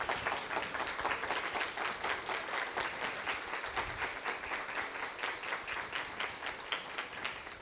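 An audience at a workplace safety week talk stands and applauds the speaker, dense sustained clapping from a crowd at moderate distance, even in rhythm and volume across the whole stretch.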